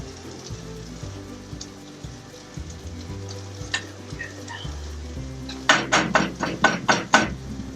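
Tofu browning in a pan on an RV kitchen stove, a steady sizzle with the clatter and scrape of stirring, ending in a burst of louder sharp clacks against the pan.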